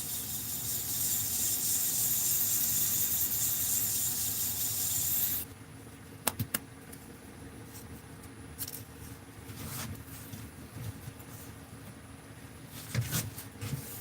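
Sanding a workpiece spinning on a lathe with 800 and 1000 grit sandpaper, a loud steady hissing rub for about five seconds, then a quieter hum with scattered knocks and handling noises.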